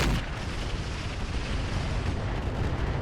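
A mech weapon fired in RogueTech BattleTech, heard as a dense, loud, continuous roaring blast with heavy low rumble that fills the whole moment without letup.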